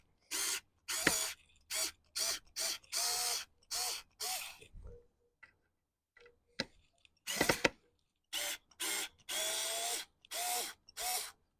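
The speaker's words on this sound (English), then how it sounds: "let's also test it to see whether or not we can extract the screws just as easily as they've gone in" A Werktough S025 4V cordless screwdriver backs screws out in a run of short whirring bursts, about a dozen stop-start pulses with brief pauses between them, close and clear with no talking.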